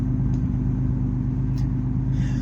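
A 1981 Chevrolet Citation X-11 idles after a cold start, a steady, close, low engine rumble holding an even level throughout with no voices.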